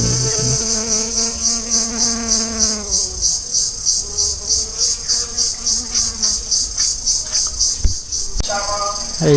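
A loud, steady drone of many honeybees swarms around lychee blossoms in an orchard, pulsing slightly while a person talks over it.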